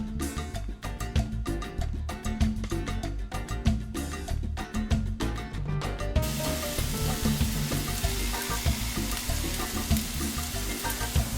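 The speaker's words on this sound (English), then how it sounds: "You know you've got the perfect heat when you hear just that slight sizzle." Taco meat sizzles in a hot skillet, a dense, loud, continuous frying hiss with crackle throughout, close and heard alone.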